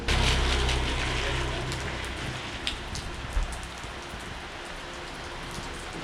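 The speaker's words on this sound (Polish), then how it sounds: "ciągle leje" Heavy rain pours steadily in Vietnam, a dense loud hiss of falling water that continues unbroken, with a low rumble at the start and a brief thump partway through.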